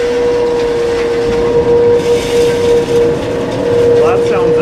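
A dust collector blower serving a planer hums steadily with a constant whining tone and broad rushing air noise, loud and close, with brief voices near the end.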